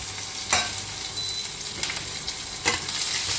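Cumin, green chilli and garlic frying in oil, a steady bright sizzle close by, broken by three scraping strokes of a spoon stirring the pan.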